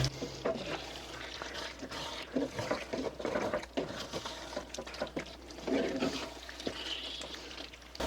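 Half a cup of water poured into a pan of noodles and stirred in, giving splashy sloshing and scraping in uneven bursts at moderate level, with no talking.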